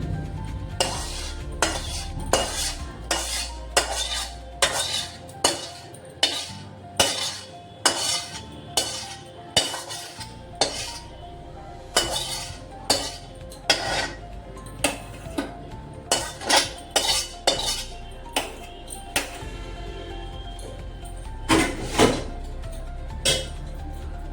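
Mango pulp for homemade aamsatta is poured and scraped onto a metal plate, giving a steady run of sharp metallic clinks and scrapes in an irregular rhythm, close and fairly loud, with no talking.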